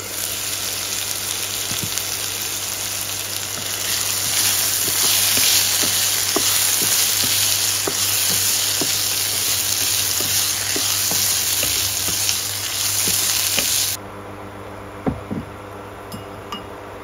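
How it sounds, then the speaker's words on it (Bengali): Potatoes frying in a pan for a Bengali fig (dumur) dish, browned until slightly charred: a steady, loud sizzle with occasional stirring clinks, dropping to quieter sputters near the end. "আলুটা হয়ে গেছে, আমি একটু পোড়া পোড়া করে ভেজেছি"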